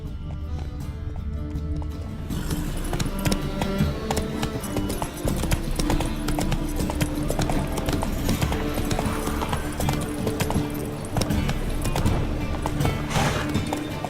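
A horse galloping in The Witcher 3: Wild Hunt video game, fast continuous hoofbeats, loud and close, starting after a quieter opening and driving steadily on with game ambience beneath.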